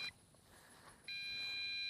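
An MJX Bugs 5W drone gives a low battery warning, a thin high-pitched electronic beep that starts, pauses, then holds steady and continuous, faint at a distance.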